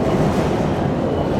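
Continuous broadband rumble of a train at Shinjuku Station in Tokyo, loud and close, with no voices over the steady roar.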